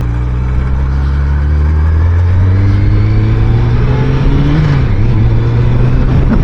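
A 1990 Honda CBR1000F motorcycle engine revs up hard and climbs in pitch, loud and close, with a brief dip before pulling again in fourth gear.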